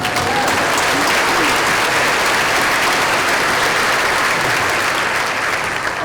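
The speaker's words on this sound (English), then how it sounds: "let's give them a round of applause" Sustained, dense applause fills a school district keynote hall, a steady wash of clapping from a large audience that stays loud and even throughout without letting up.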